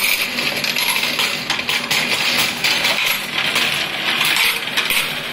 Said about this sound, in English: you can see all the coins falling in different boxes